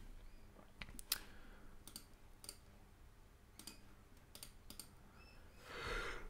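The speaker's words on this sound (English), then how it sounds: "I'm just clicking something to see." A computer mouse gives scattered, sharp clicks, single and in quick pairs, close but quiet against a faint room hiss, with a low rustle toward the end.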